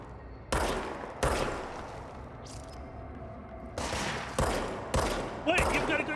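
Enemy gunfire in the action game Control: sharp, loud bursts of shots hit in separate volleys, with short quieter gaps between them.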